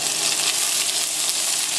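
Chinese broccoli stems sautéing in a pan over high heat, a steady, dense sizzle and crackle that fills the whole clip without a break, close and fairly loud, with no talking.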